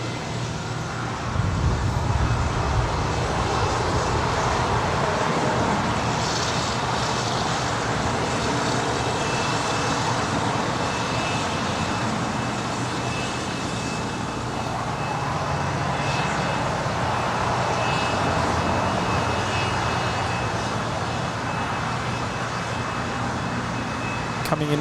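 An Embraer Legacy 500 business jet roars steadily at an airport, a broad sustained engine rush that holds evenly throughout with no talk.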